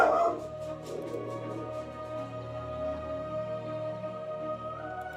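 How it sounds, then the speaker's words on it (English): A dog yips, barks and whimpers indoors in short repeated bursts at the start, then settles into a faint whine beneath a steady background hum; no talking. "This dog."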